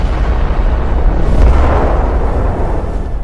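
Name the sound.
shell explosion hitting the Hood's ammunition magazine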